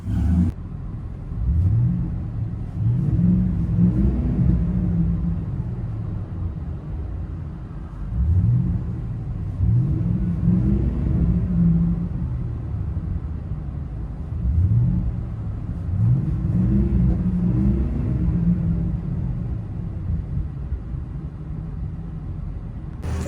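Ford F250 Super Duty with a 6.2L V8 and Flowmaster Super 10 true dual exhaust into 3.5-inch tips, heard from inside the cab: a deep rumbling idle broken by three or four rising revs, steady and fairly loud with no talk.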